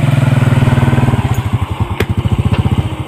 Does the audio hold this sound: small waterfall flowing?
no